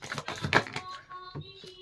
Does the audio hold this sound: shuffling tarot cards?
yes